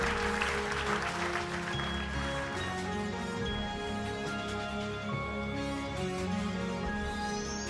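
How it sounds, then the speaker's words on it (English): An audience at an awards ceremony gives a sustained round of applause, dense clapping that carries on steadily with faint music or tones mixed in. "Shall we do a big round of applause, ladies and gentlemen, as we celebrate this great son of the soil."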